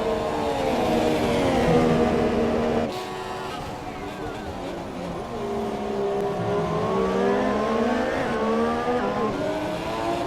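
Formula 1 race car in the F1 2017 video game at the Chinese circuit, engine whining loud and continuous through a sequence of corners, pitch dipping and climbing with downshifts and acceleration, with light tire noise.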